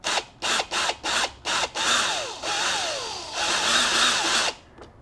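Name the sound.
drilling self-tapping screws into tire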